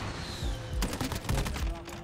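SCAR rifle gunfire in a video game: a rapid burst of sharp shots crackles up close, with several dense bursts of fire clustered over about two seconds.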